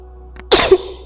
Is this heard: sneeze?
yes